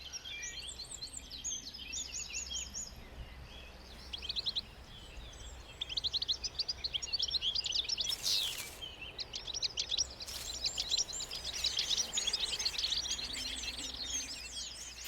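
A goldfinch sings outdoors in open country, bright rapid twittering phrases coming in bursts over steady faint background hiss, moderately distant and continuing for the whole stretch.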